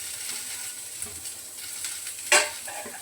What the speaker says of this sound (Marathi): आता कांदा टाकते परतायला, पण बिना तेलाचा, तेल नाही टाकत लगेच.